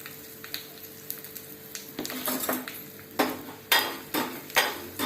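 Curry leaves and asafoetida fry in hot oil for a radish carrot sambar tempering: a soft background sizzle breaks into several sharp crackling bursts, with light metallic clinks of a spoon against the pan.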